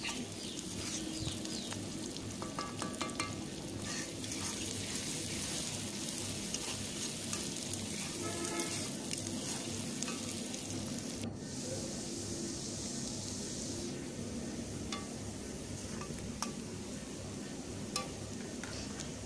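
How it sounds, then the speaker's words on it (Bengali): Onion fries in oil in a pan for a Bengali-style egg bhuna, giving a close, continuous sizzle with occasional stirring scrapes, steady throughout and almost free of talk. "আমি ভালো করে পেঁয়াজটা ভেজে নিচ্ছি।"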